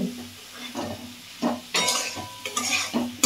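A utensil scrapes and clinks against a pan as cumin, coriander, turmeric and salt are stirred into a masala, in short irregular bursts over a quiet background sizzle.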